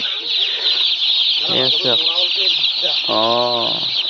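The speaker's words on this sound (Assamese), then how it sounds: "পোৱালি, এয়া পোৱালি আনি দিল ভিনিৰ এই ব্ৰইলাৰ ফাৰ্মৰ।" A dense, continuous chorus of high peeping from around 1,500 broiler chicks fills a broiler farm shed, while a voice talks intermittently over it.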